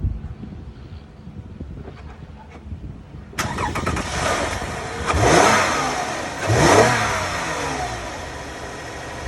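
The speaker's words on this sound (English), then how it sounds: "So the engine worked. It started." A car engine with a dead battery, jump-started with a NOCO GB150, cranks and catches, then revs up loudly twice before settling into a steady idle, with no one speaking.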